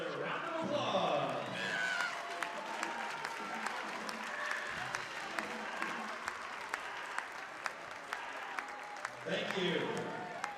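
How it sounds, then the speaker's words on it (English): A crowd in a school gymnasium on basketball senior night claps for the senior band members, a sustained wash of applause with some shouts, while a voice carries over the start and end. "Let's give all the senior band members a round of applause."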